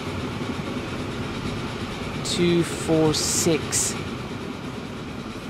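In the Transport Fever video game, a 4-8-8-4 Big Boy steam locomotive hauls an oil train with a steady rumbling, rolling rail sound. Someone talks over it briefly while sharper clanks and hisses come through in the middle.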